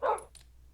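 A single sharp Minecraft dog bark near a farm, followed by a faint, brief higher yip and quiet game background.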